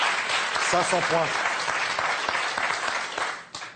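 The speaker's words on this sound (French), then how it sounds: "On applaudit Claire, Clorentin, bravo" Studio audience applause on a French word game show, continuous clapping that tapers near the end, with a voice speaking briefly over it early on.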